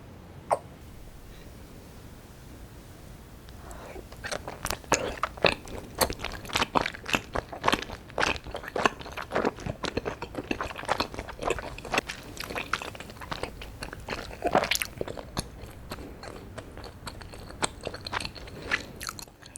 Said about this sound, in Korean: 꿀이랑 한번 찍어 먹어볼게요.